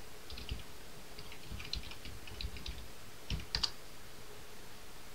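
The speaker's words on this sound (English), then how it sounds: "Type the password." Scattered keystrokes tap out a password on a computer keyboard, soft and close, in short uneven clusters with a couple of sharper clicks near the end.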